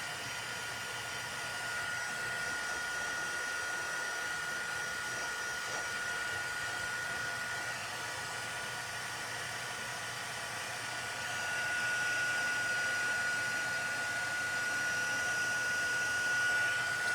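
A heat tool blowing steadily while embossing a card, a continuous whooshing hum with a faint whine, close and unbroken, rising slightly in loudness partway through.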